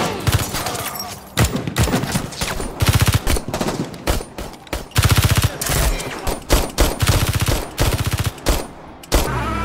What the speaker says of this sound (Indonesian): Mendengar suara ledakan dan tembakan